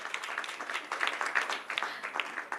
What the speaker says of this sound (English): Now the clapping part starts.